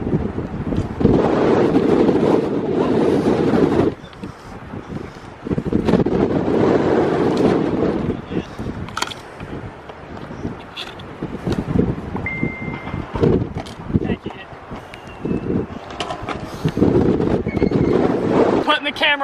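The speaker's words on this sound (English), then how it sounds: "We're hiding from the wind." Strong gusts buffet a handheld camera microphone outdoors during a windstorm ride, a loud continuous low roar that swells and drops in long waves, with brief faint voices underneath.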